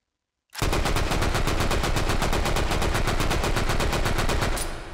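A Sten submachine gun fires in H3VR, a virtual-reality game, as a single sustained burst of rapid, evenly spaced automatic shots that starts abruptly and continues loud and close to the end, with no talk.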